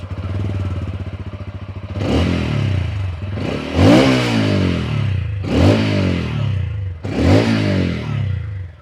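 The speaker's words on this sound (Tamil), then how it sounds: "இந்த பைக்கில் எனக்கு பிடிச்சது என்னென்னா இந்த எக்ஸாஸ்ட் நோட் தான்" A TVS Ronin 225 motorcycle engine idles with a deep, bassy exhaust note, then revs sharply four times in succession, each throaty rise falling back to a rumble.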